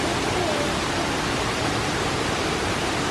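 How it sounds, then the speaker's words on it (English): Large river or waterfall rushing outdoors in Jamaica, a steady broadband roar that holds constant and close throughout with no breaks. "Must be a big river that's coming from."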